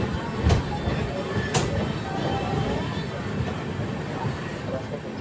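A low, steady rumble from an Amrit Bharat Express stopped at Aluva station, with a couple of sharp clanks early on and faint voices around it.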